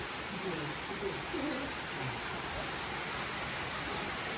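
Steady hiss of rain falling, continuous and even throughout, with faint low murmurs underneath.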